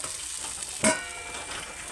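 Brinjal fries in hot oil with a steady, close hiss and one brief clatter partway through; no voices.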